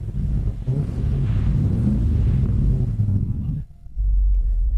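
A parked car's engine idles with a deep, steady exhaust rumble close to the microphone, and the sound drops briefly near the end. A voice talks over it.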